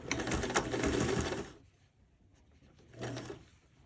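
A home sewing machine stitches through a thick zipper panel for a teen sling bag, running in one steady burst for about a second and a half, then pausing before a shorter run; close and moderately loud, no talk.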